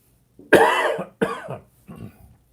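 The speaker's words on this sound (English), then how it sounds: "I coughed right into the mic" A cough made close into a microphone by an auctioneer during a live coin auction, three loud throaty bursts in quick succession, each fading out, with no speech.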